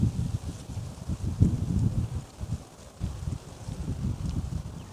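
Strong wind blows straight into the microphone on Hat Krathing Lai beach near Pattaya, Chonburi, making a continuous low, gusting rumble that swells and dips throughout, with no voices.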